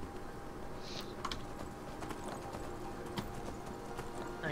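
Horse hooves clip-clop in a video game cave-crawling scene as a steady, moderately loud trot of repeated hoof strikes over ambient game noise.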